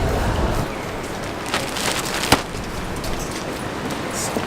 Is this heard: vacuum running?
no